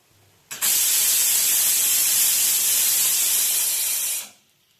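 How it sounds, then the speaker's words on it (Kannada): A pressure cooker cooking bisibele bath gives one loud, steady whistling hiss of steam that starts abruptly, holds for about four seconds and then dies away. "ಸೊ ನಿಧಾನಕ್ಕೆ ವಿಸಿಲ್ ಕೂಗುತ್ತೆ."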